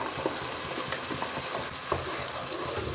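Onions with masala frying in oil for palak paneer, a steady dense sizzle with faint stirring clicks throughout, close and continuous.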